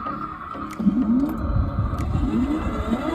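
A child's small red ride-on toy car motor whirs close by, with short rising electric whines over a low rumbling roll.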